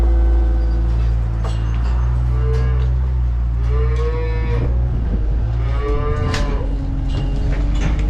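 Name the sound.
cows mooing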